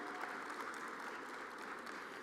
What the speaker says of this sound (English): A round of applause, ladies and gentlemen, for your Hofstra Pride women's soccer team.